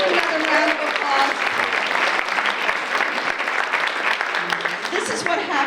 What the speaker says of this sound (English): Can we give another round of applause?